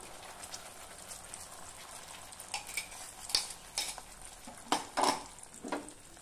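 Cumin seeds and a ground paste fry in oil in a home kitchen pan, a low sizzle broken by sharp clinks and scrapes of a spoon stirring, growing busier toward the end.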